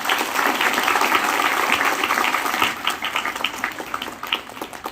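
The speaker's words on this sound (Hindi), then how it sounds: "इस पर हम सब ताली बजा सकते हैं" A school assembly on a Kendriya Vidyalaya foundation day breaks into loud, dense applause from many hands, steady at first and then thinning into scattered claps toward the end.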